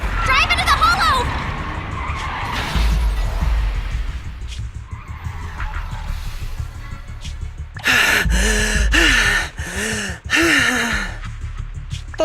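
Car tires skidding and a near crash involving a truck in the video game Zenless Zone Zero, loud bursts of screeching and gasping over game music, with voices talking and exclaiming around it.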